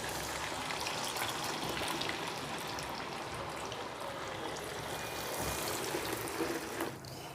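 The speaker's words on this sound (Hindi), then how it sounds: "मैं इसको फ्राई करूँगी।" Fish fries in hot oil over a medium flame for a Lahore-style masala fried fish, a dense, continuous sizzle and crackle close up with no voices.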